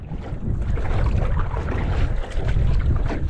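Steady, loud wind buffets the microphone while canoeing into the wind on a backwoods lake, a dense low rumble that continues without a break.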